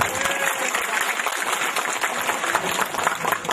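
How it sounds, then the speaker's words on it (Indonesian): Audience at an Indonesian religious lecture claps in a loose, uneven burst, individual hand claps audible within the applause, fairly near and moderately loud. "Tepuk tangan dulu"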